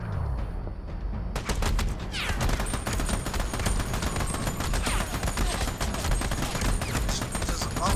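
Sustained heavy gunfire in the Army of Two video game, with dense rapid automatic bursts and layered shots forming a loud, continuous barrage across the whole stretch, with little break and no clear talk on top.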